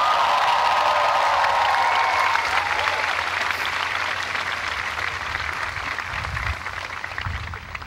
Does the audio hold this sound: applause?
yes